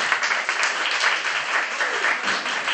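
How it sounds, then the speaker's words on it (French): Audience applause at a stage magic show, dense continuous clapping from a crowd heard alone for a few seconds. "Deux applaudissements pour notre ami Joseph."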